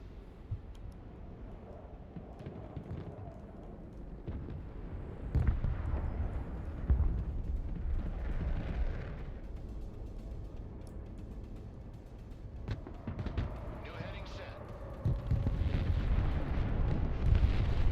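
Bombs explode in the war video game Broken Arrow as a sequence of heavy, rumbling blasts with continuous low booming and battlefield din. It swells louder midway through and again near the end.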